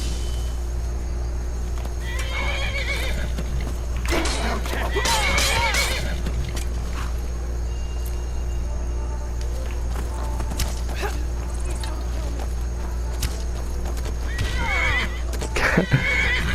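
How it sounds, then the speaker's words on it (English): A horse in the video game Skyrim whinnies shrilly several times in bursts as it fights, with hoof clatter and a muffled game backdrop, and a voice talks at points. "meu cavalo metendo a porrada"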